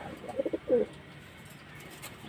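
Pigeons in a loft give a few soft, close coos in quick succession early on, followed by a quiet, faintly noisy background.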